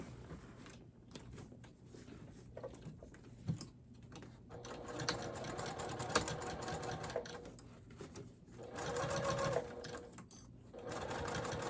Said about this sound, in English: I like to back stitch over that center seam just because it has a lot of stress on that seam